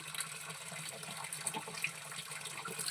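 Spring water runs steadily out of pipes at an outdoor stream, a continuous close rushing and splashing that stays even and fairly quiet, with no talking.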